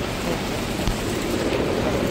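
Heavy rain falls steadily and loudly outdoors in a continuous, even wash of noise, then cuts off abruptly at the end. No one speaks.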